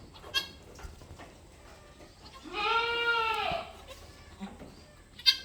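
A goat on Bulungan Mandiri Farm, a Crossbur goat farm, lets out one clear, drawn-out bleat at mid-distance, set among faint barn noises and a few soft knocks.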